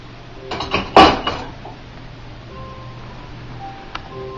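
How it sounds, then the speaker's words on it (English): Dishes are washed by hand at home, with a cluster of sharp clinks and clatters of plates and cutlery close by near the start, then quieter running-water hiss and a single later clink. "slaving away, doing dishes"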